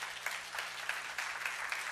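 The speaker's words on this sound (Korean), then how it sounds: "우리 영상팀을 위해서 박수 한번 부탁드릴게요" A church congregation applauds, many hands clapping in a dense, continuous patter at a steady level, heard from a distance in a large hall, with no talk over it.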